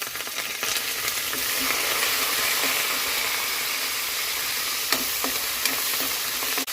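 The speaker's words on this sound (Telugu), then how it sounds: "జీడిపప్పులు ఫ్రై అయిపోతున్నాయి తొందరగా" Cashews and curry leaves frying in hot oil for Mumbai-style rava upma, a steady dense sizzle running throughout with a few faint ticks and stirring clinks, close and fairly loud, no talking.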